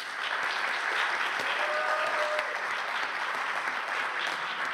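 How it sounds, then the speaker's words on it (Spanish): Audience at a round-table panel welcoming the panelists and moderator with steady applause, a dense, even wash of many hands clapping, somewhat distant and continuous from start to finish. "les pido un fuerte aplauso"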